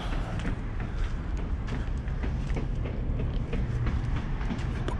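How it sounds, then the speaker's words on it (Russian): A tram in Achinsk rumbles past, a steady, dense roar with faint rattling clatter that stays loud and close for the whole stretch. "Знаменитый ачинский трамвай"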